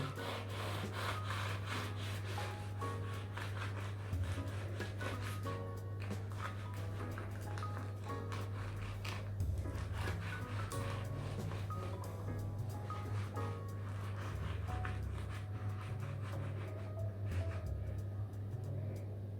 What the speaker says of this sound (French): on va venir couper notre Paris-Brest en deux. Alors vous prenez un couteau à dents